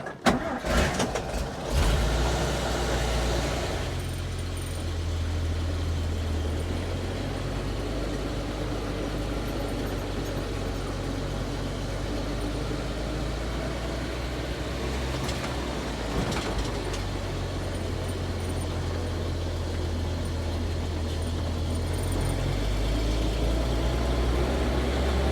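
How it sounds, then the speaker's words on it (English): A Dodge Power Wagon truck engine runs steadily on the road, a loud continuous low rumble with road noise throughout, rising slightly in the last few seconds. "The truck's a noisy truck."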